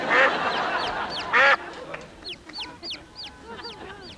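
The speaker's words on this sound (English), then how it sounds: "It's the duck." A duck on a London television set gives loud, rasping quacks at first, followed by a run of short, thin calls repeated quickly and at fairly close range, with no voices over them.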